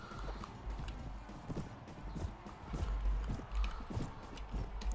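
Lightly armoured horses gallop in Mount and Blade: Warband combat, giving a fast, uneven drumming of hoofbeats with a brief whinny, all fairly quiet and distant in the mix.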